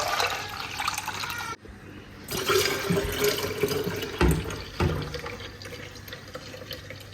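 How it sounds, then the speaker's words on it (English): Juice mixture poured back into a plastic container, a steady close liquid splashing and trickling with a few louder gurgling surges and a brief pause partway through. "Then I'll have to also pour it back in the plastic to combine it really well."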